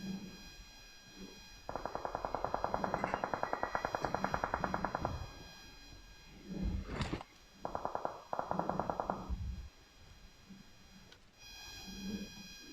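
Automatic gunfire in PUBG on the Sanhok map: a long rapid burst of evenly spaced shots, then two shorter bursts a few seconds later, over a steady game background hum.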